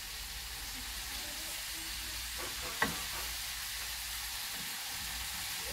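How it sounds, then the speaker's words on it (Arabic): Courgettes tipped into a frying pan, making a low, steady sizzle with one sharp clatter midway as they land, then quiet hissing continues. "غادي نجي نضيف عليهم دابا لي كورجيت"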